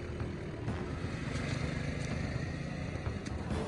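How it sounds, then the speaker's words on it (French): A motor scooter's engine drones steadily as a sound effect in a French true-crime podcast, a close, continuous buzzing hum with small bumps and no voices. "Jonathan Binet est remonté sur son scooter et s'est enfui."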